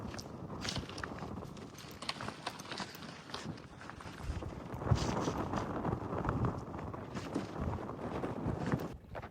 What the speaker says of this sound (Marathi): आपण उंचावर आलोय त्यामुळं थंड वारं आहे खूप